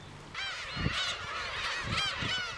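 Young gulls about 40 days old call repeatedly nearby on Gyeokryeolbiyeoldo island in the Yellow Sea, a cluster of harsh, nasal squawks that overlap one another over faint background noise.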